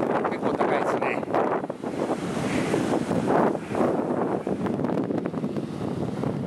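High waves break on a beach at Sihanoukville after a river trip and trek, a constant dense roar of surf mixed with heavy wind buffeting the microphone, with no voices.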